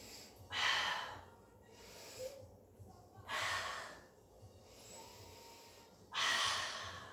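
Slow, deep breaths during a Pilates mat exercise: three long airy exhalations spaced a few seconds apart, close and soft, with quiet breathing between.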